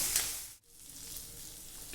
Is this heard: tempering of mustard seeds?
yes